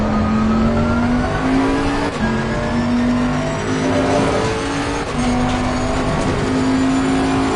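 A race car engine drones loudly in the FIA Motorsports Games 2022 video game, rising steadily in pitch through each gear before dropping at the shifts, repeated over several seconds, with a faint tire squeal.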